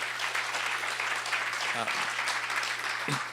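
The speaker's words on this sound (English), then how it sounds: "So just another quick round of applause for the speakers" Steady applause for speakers at a criminal justice event in New York City fills the room, with a few faint thumps underneath.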